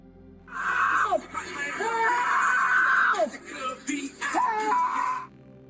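A woman neighbor screams emotionally in long, wailing, pitch-sliding cries, loud and close, broken by brief gasps across several seconds, with no other voices heard.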